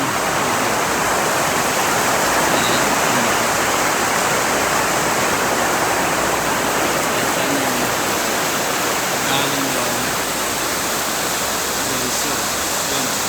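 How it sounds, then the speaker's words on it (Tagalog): Cold glacier meltwater stream in Norway rushing steadily, a loud unbroken wash of flowing water close by with no clear talk over it. "So tubig na ito napakalamig kasi galing ito sa glacier."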